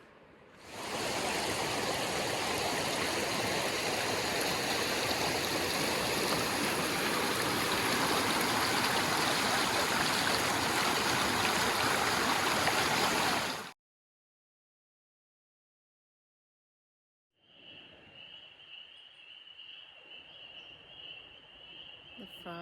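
The Toxaway River flows as a loud, steady wash of rushing water close by, broken by a sudden silence; afterward a quieter outdoor scene returns with a high insect or frog drone.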